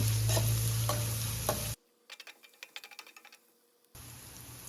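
Onions fry in a pan with a loud, steady sizzle, broken by a quiet stretch of light stirring and scraping taps before the sizzle returns.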